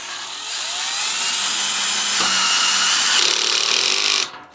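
A power drill drives a bolt into a Yaheetech fire pit table during assembly, giving a close, loud, continuous high whine that dips and shifts pitch midway, then cuts off.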